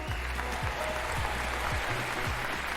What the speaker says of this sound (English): I also want to give an applause for everyone who was playing for Wild Craze and for Mort